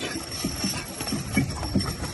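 Draft horses at a county fair horse pull, their hooves giving a steady series of clip-clop thuds on the ground amid loud, constant outdoor crowd and event noise.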